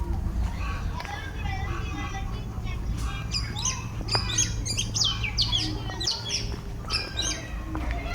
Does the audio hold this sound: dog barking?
no